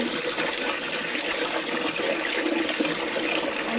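Water runs steadily from a pipe for a cow to drink, a continuous broadband splashing gush at close range with no voices.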